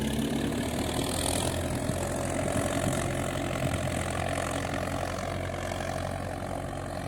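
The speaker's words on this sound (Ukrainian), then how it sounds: "МТЗ-82 зараз дискує і буде город готовий." An MTZ-82 tractor discing a garden plot runs steadily and loudly throughout, a continuous low rumbling drone with no pauses and no voices.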